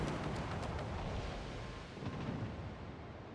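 Battleship main guns firing during a World of Warships naval battle: a continuous deep, rumbling boom that rolls and swells like distant thunder throughout, loud and with no talk.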